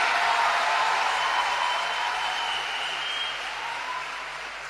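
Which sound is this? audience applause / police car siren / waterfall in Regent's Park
audience applause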